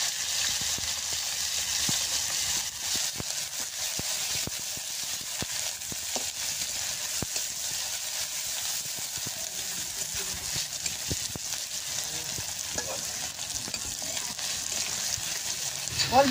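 Garlic, onion and chili fry in a pan in a village kitchen, giving a steady, even sizzle with scattered clicks and scrapes from stirring that continue throughout.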